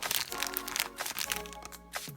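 Scissors cut open a crinkly plastic blind bag holding a toy figure, a run of sharp crackling snips and crunches close up, with no one talking.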